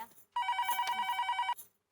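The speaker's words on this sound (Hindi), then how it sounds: "अरे दया फोन ले जरा।" A telephone bell rings in one continuous trilling burst of about a second, loud and close in a quiet room inside a Gokuldham Society home.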